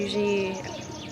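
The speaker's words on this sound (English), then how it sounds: "You just hear the birds chirping" Birds chirp at sunrise among the temples of Bagan, Myanmar, brief clear tweets and whistled calls heard close over a soft outdoor background.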